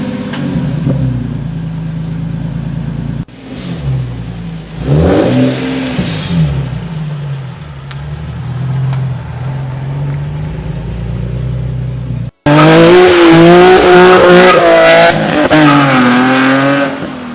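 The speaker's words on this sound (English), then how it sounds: "So right now, we're gonna get a cold start for you guys." A Nissan 370Z starts cold with a steady idle, and a few engine swells follow. After a sharp cut it revs hard and loud as the car drives away, with rising and falling engine tones.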